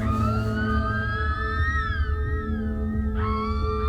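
Eerie whale-like call in the film The Lighthouse (2019), drawn-out gliding tonal wails that rise and fall over a low rumble, loud and continuous, with a sharp new upward wail near the end.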